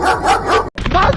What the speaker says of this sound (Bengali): এই শিয়ালটার পেছনে এই কুকুরগুলো তাড়া করে।